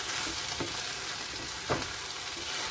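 Okra sizzles and fries steadily in a hot pan during stir-frying, with a couple of soft stirring scrapes breaking through the constant crackle.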